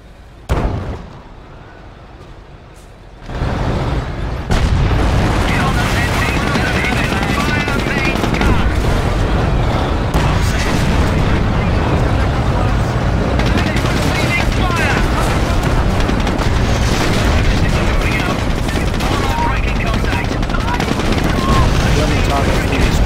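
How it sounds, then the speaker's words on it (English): Artillery barrage in the Company of Heroes video game, a Liberation of Caen battle at Hill 112 with 25-pounder guns: after a quieter opening, dense continuous explosions and gunfire roll on loudly, with game voices heard over the din. "The barrage should begin any minute now!"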